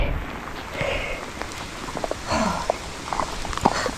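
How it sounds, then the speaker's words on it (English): Steady rain falling on a surface outdoors near horses and dogs, a dense continuous patter at moderate level with scattered louder drops and some faint movement sounds mixed in. "I don't mind the rain"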